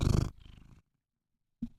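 A cat purring close to the microphone in a short, low rumbling burst that fades into silence, followed by a brief soft return.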